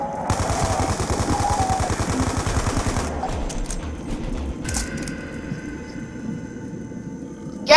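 Rapid automatic gunfire shooting zombies in Black Ops 2, a dense rattling burst for about three seconds, then quieter mechanical clicks and game effects, no talk.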